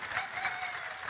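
Brief burst of crowd applause for the regent at an outdoor Javanese religious sermon gathering, a soft, dense patter of many hands clapping at a distance.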